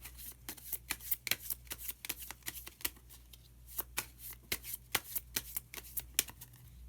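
Tarot cards being shuffled up close, a continuous run of crisp riffling flicks in quick, uneven rhythm over a low steady hum, with no talking.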